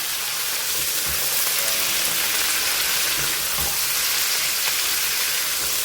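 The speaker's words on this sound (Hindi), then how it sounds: "अब इस पॉइंट पर हम इसमें अपना मीट ऐड करेंगे और इसको हल्का सा हम फ्राई करेंगे मीट को प्याज के साथ ही।" Meat frying together with browned onions in a pan while cooking bhindi gosht, a loud, steady, dense sizzle with no pauses and no voices.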